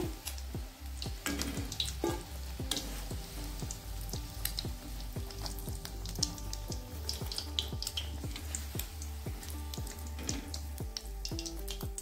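Egg-coated cauliflower pieces fry steadily in hot oil, a dense continuous sizzle with many small crackling pops, close and alone without any voices.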